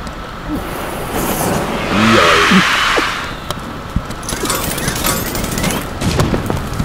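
Fire and oil burn into a crackling explosion in the Little Inferno game: a roaring whoosh swells and fades, followed by scattered pops and crackles, with a brief voice sound amid it.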